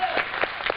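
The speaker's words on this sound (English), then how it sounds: "big round of applause for Ben" Studio audience applause at a live tech talk show, a short burst of dense clapping with a few louder peaks, moderately close and with no talk over it.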